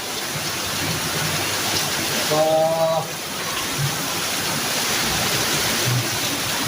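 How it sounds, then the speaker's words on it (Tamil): Heavy rain pours down nonstop near a small shop, making a dense, loud, even hiss that fills the whole clip. A voice speaks briefly partway through, under the downpour. "மழை அரை மணி நேரமாக பெஞ்சிட்டு கிடக்கு"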